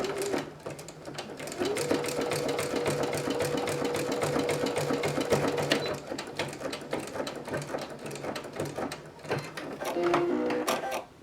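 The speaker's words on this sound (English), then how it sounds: "sew a straight line with a back stitch and a forward stitch" A sewing machine runs in steady bursts, stitching a straight seam with back and forward stitches on a plush toy fitted with magnets, with a whirring motor and rapid needle clatter, close and alone.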